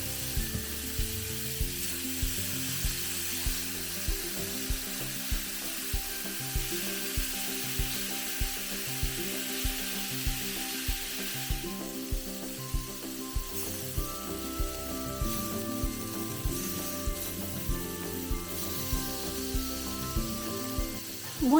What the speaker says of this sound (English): I'm browning each side for about 3, maybe 4 minutes